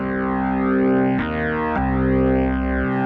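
A Viscount Legend Soul organ holds sustained chords, played loud and alone. The tone moves from a clean sound to a heavily distorted one, with swirling chorus-like modulation and a couple of abrupt chord changes.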